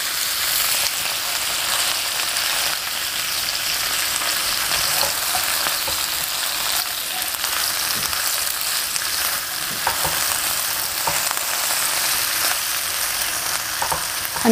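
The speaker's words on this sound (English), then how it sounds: "all the vegetable. Give it a stir." Vegetables fry in a pan and get stirred, a loud, continuous sizzle with occasional soft scrapes from the stirring, close up and without talk.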